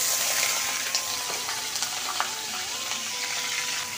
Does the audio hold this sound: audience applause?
no